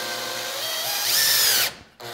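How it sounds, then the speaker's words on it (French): A power drill drives self-drilling drywall screws through a metal stud behind plasterboard. The motor whines steadily, rises in pitch as it runs up, then cuts off abruptly and restarts briefly, close and loud. "Donc là, normalement, on peut visser directement sans mettre de cheville."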